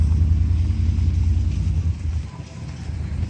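A heavy vehicle rumbles past close by, a steady low engine drone that fades slightly toward the end.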